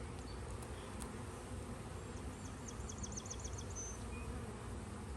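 Honeybees buzzing steadily inside a hive that is preparing to swarm, a dense continuous drone close by with faint bird chirps in the background.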